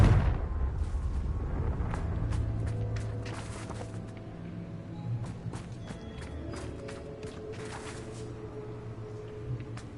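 A Confringo fire spell bursting in Hogwarts Legacy, heard as a loud blast at the start and then several sharp, booming hits over a steady rumbling game backdrop.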